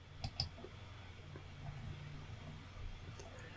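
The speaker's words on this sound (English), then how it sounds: "We can click and drag with the middle mouse button" A couple of quick, close computer mouse clicks near the start, then steady low room hum with faint scattered ticks.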